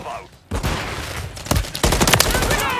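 Gunfire in the Call of Duty MW3 beta, a close burst of rapid shots that starts after a short quiet moment and grows sharper near the end.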